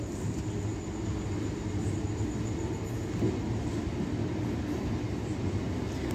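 An MMTS local train in Hyderabad pulls away from platform 1 with a steady low rumble and rolling wheel noise, heard from on board, continuous and moderately loud with a faint high whine above.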